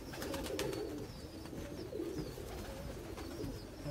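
Many pigeons coo together in a low, continuous murmur, with occasional sharper clicks and rustles mixed into a busy outdoor background.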